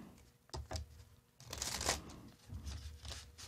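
A deck of tarot cards is shuffled by hand in a few quick riffling bursts, close and fairly soft, with short pauses between them and no talking.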